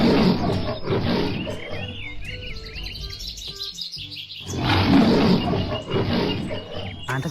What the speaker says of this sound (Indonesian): Wow, singa.